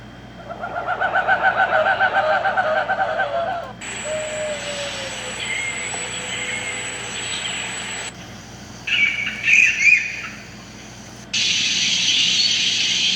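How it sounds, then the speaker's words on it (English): An AI-generated tropical rainforest soundscape of monkeys and birds: a run of repeated cooing bird calls, then shifting bursts of hiss, squeals and chirps in separate abrupt sections, fairly loud and with no talking. "Tropical rainforest with monkeys and birds."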